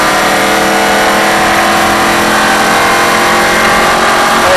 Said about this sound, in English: Now start squeezing back on the gas.